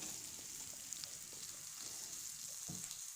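Pieces of local free-range chicken fry over high heat with spices in a pan, a continuous close sizzle broken by occasional scraping stir sounds.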